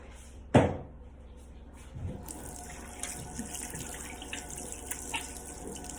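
Tap water runs into a sink while a face is washed with soap, starting with a sharp knock, then a steady gush of running water with small splashes, fairly close.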